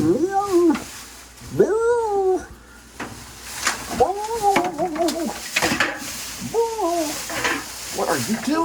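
A pet cat gives a series of drawn-out, wavering meows and yowls, close and fairly loud, coming in repeated bursts with short pauses between.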